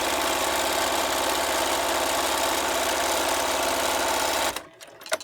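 A sewing machine runs steadily, stitching butted-together cotton fabric pieces for three-layer pleated masks, a loud continuous motorized whir lasting about four and a half seconds before stopping abruptly, followed by a few faint handling clicks.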